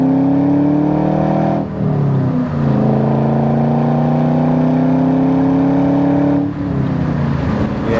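1998 Ford SVT Cobra accelerating through the gears, a loud close engine note rising in pitch with brief dips at two quick shifts, heard from inside the car with no talking.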